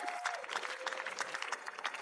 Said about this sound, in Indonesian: Tepuk tangan untuk 40 juri foto.